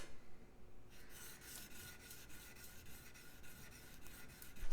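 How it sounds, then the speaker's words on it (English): A plane iron for a scrub plane is honed on a fine sharpening stone, giving quiet, repeated rasping strokes in a steady back-and-forth rhythm, close by with no talking. "Onto my fine stone."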